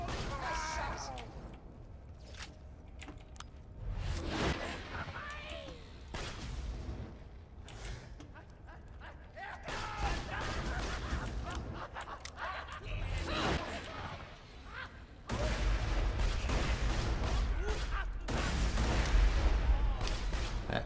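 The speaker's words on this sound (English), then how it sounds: "there's somebody shooting at you" Enemy gunfire in the Borderlands 2 video game: bursts of shots and impacts come and go under frequent talking, with a louder, denser stretch of combat near the end.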